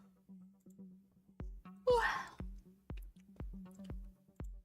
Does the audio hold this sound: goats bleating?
no